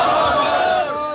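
At a religious gathering for naat recitation in Rajanpur Kalan, a crowd answers the Takbir slogan with a loud, unified shout. Many voices rise together and then fade slightly.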